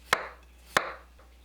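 A knife cuts through green garlic leaves on a cutting board in two crisp, evenly spaced chops, close and clear against a quiet background.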